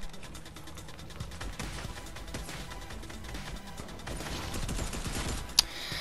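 Rapid gunfire in the video game Fortnite crackles at a moderate distance in long dense bursts, with a sharp crash or click near the end.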